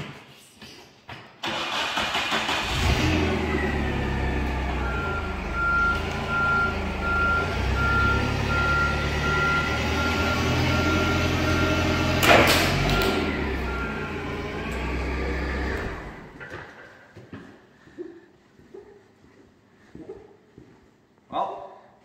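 A forklift engine starts and runs with steady reversing beeps while it pulls mule tape under strain, rumbling loudly for about fifteen seconds before dropping to idle with scattered knocks and clatter afterward.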